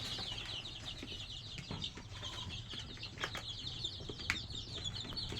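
Sonali breed chickens on a farm, a steady low murmur of clucking with occasional wing flaps and brief bird calls, moderately near, with no talking.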